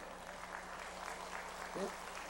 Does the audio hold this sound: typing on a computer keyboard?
no